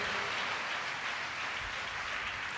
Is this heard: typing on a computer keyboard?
no